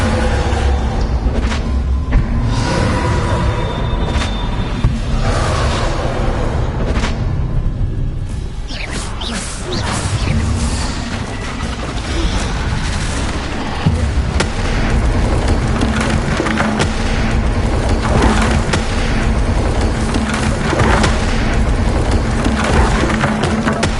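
Bombarda spell blasts in the video game Hogwarts Legacy boom and crack repeatedly during a boss fight, with whooshes, splintering debris and a dense, continuous loud battle roar.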